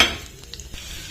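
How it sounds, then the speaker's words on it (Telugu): Tempering seeds for tomato coriander chutney crackle in hot oil in a pan, a brief soft sizzle with a few sharp pops, fading quickly after a louder start; no one speaks. "పోపు గింజలు వేసేసుకుందాం"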